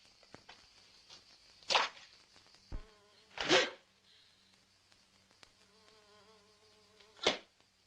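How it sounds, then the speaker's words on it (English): A wasp buzzes close by outdoors in several bursts of droning hum that rise and fade over quiet background sound, broken by a few sharp clicks and rustles, with no talk. "Oh, there's a wasp here."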